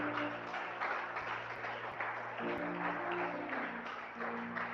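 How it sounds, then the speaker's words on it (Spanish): A church congregation claps together at an evangelistic service, a steady, dense wash of applause that fills the whole stretch with no pause, held under a low sustained musical tone. "Dale un fuerte aplauso al Señor"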